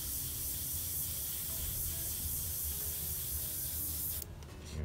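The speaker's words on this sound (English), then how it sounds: "Spray that through." An airbrush sprays Mission Models white aluminum metallic paint in a steady close hiss for about four seconds, then cuts off sharply and leaves quieter sputtering at the end.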